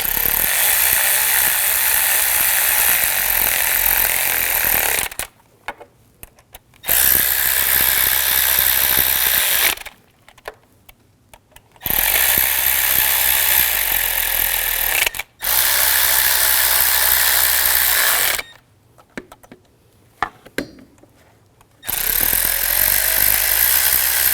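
A ratchet wrench tightens bolts during an upper engine mount replacement on a 2001-2009 Volvo S60, its rapid clicking running in long loud bursts broken by brief quiet pauses.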